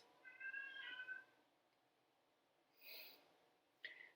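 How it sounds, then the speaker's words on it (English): A pet cat meows for attention indoors, one drawn-out plaintive cry followed by a faint snort or breath and a short sharp chirp, quiet and slightly distant with no talking. "my poor kitty, she's just crying"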